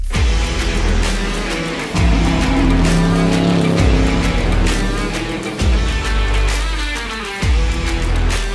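A GT3 race car drives hard on a circuit, engine roaring loud and close through repeated upshifts every couple of seconds, with rising revs and sharp drops between gears.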